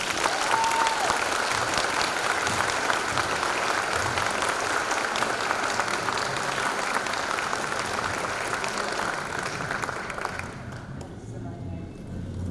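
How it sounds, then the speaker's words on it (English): An audience at a state-of-education luncheon in Port Arthur applauds students with sustained, dense clapping that fills the room at a steady level, then thins toward the end. "Let's give these students their applause."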